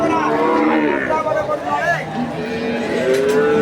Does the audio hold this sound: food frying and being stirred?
no